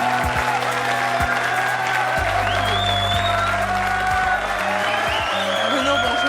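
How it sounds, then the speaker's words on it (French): French television studio audience applauds as a fakir walks on, clapping running steadily throughout beneath prominent music with a sustained bass line and tonal stings. "Je vous demande d'applaudir Bruno."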